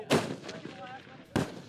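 Sniper rifles firing at the Armed Forces Skill at Arms Meeting sniper championship, Fort Chaffee, Arkansas: two sharp, distant-sounding gunshots about a second apart, each with a short echoing tail, fairly faint overall.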